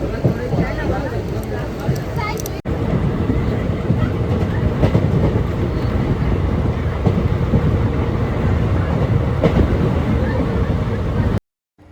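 A train rolls steadily along the tracks with a continuous rumble and rattle, loud and close throughout, with people talking underneath before it cuts off abruptly.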